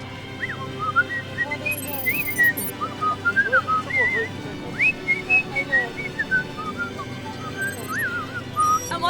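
A man, a local TD at the Killarney Historic Rally, whistles a lively tune in place of a tin whistle, the bright melodic notes rising and falling over a low background murmur.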